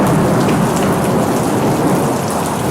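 Torrential monsoon rain pours down in a dense, loud, continuous roar in the Burewala area, with thunder rumbling underneath and no voices.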